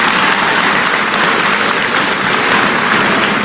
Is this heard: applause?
yes